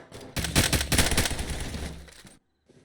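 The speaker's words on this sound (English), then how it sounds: "Lots of spam fire going." Rapid gunfire in a competitive tactical shooter match, with dense overlapping bursts and sustained automatic fire filling the mix loudly before cutting off abruptly near the end.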